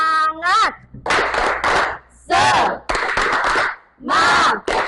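A class in a school lesson does rhythmic spirit clapping, crisp bursts of hands in patterned groups alternating with loud shouted chanting and a teacher's voice.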